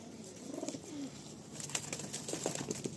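Madrasi pigeons coo softly at close range, with brief rustling and fluttering toward the end, quiet and with no talk.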